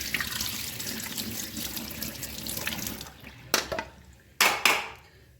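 Water runs steadily from washed mung dal draining in a sieve, a continuous splashing flow that stops, followed by a few sharp clatters of the strainer.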